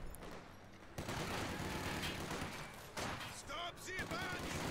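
Machine gun fire and battle noise from Company of Heroes 2 come as bursts of rattling shots and crackling gunfire, with a commentator's voice talking over the action toward the end.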